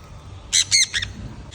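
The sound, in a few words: sparrow chirping during animal feeding at Safari World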